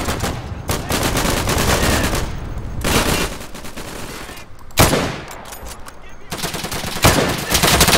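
Rapid bursts of gunfire in Day of Infamy on a beach battlefield, with sustained machine-gun strings broken by short pauses and a few louder single shots, close and loud, with a voice talking briefly over the shooting.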